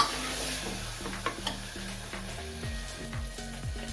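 Coriander, red chilli and salt are stirred with turmeric in a hot pan: a steady sizzle runs under repeated scraping strokes of a spoon, close and fairly loud, with no talk.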